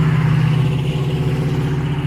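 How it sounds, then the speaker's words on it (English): Vehicles pass close by on a roadside on a cloudy day, a steady low engine rumble and tire roar at moderate loudness with no voices. "I know y'all can hear these vehicles going by because I'm right here at the road."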